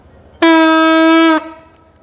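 A small toy horn trumpet blown at a football stadium sounds one loud, bright, sustained blast lasting about a second, then stops abruptly.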